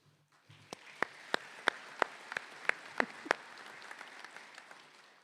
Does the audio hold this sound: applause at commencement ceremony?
yes